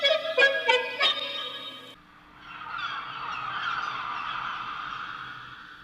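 Squawking gull-like bird calls in quick bursts open a music beat, then give way to a softer, sustained wash of sound.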